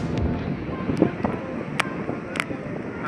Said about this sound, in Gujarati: ખૂબ સરસ મજાનો પવન ઠંડો આવે છે